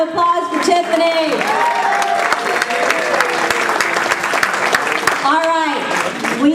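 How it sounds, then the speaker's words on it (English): An indoor audience applauds a speaker, dense steady clapping throughout with a voice talking and some cheering over it. "Tiffany, another round of applause for Tiffany."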